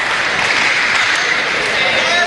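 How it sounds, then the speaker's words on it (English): Arena crowd applauding at the 2009 Badminton World Championship men's singles match between Taufik Hidayat and Christian Boesiger, a steady broad roar of distant clapping under a commentator's voice. "he gets a real good round of applause as well"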